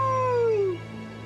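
A single wolf gives a clear, sliding howl that falls in pitch and fades out after under a second, close and loud over a low background hum.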